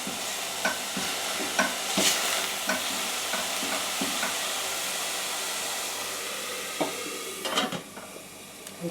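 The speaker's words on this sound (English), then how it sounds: "going to give this a little stir." Basmati rice is stirred in a pot on low heat, a spoon clicking and scraping at a slow, irregular rhythm over a constant soft hiss.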